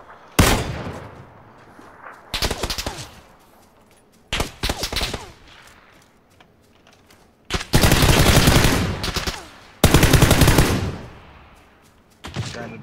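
Video game gunfire from a squad battle royale match: loud automatic bursts of a few seconds each and single cracks, close and separated by quiet gaps, with faint voices between.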